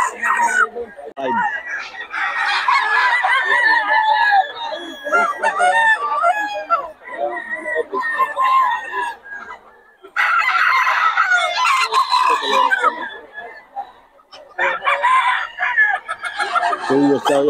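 Roosters and chickens at a poultry sale in Bocaue crow and cluck almost without a break, loud and close. The calls are dense and overlapping, with short gaps, and people talk underneath.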